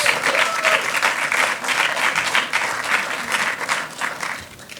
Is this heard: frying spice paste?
no